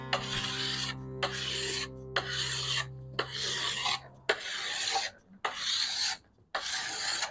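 A hand file rasps along the steel edge of a snowboard to sharpen it and remove a burr, about eight even back-and-forth strokes close up, with short pauses between them and no talk.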